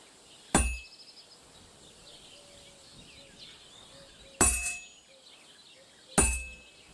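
Blacksmith's hammer striking an anvil in Kingdom Come Deliverance 2: three sharp metallic clangs spaced a few seconds apart, each ringing briefly, with faint ambient birdsong between blows.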